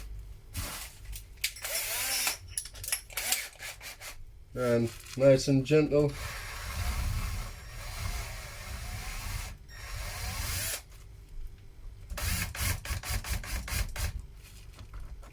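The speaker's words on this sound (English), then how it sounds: "To get the tweeter out, we'll need to drill them out basically" A power drill with a 10mm bit whirs in short bursts and grinds through tweeter mounting points in a Ford Transit Custom, close by, pausing between passes while someone speaks briefly.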